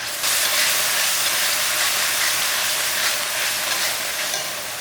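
Ginger garlic paste fries in a pan for a vegetable kurma, a steady loud sizzle and hiss that runs unbroken throughout.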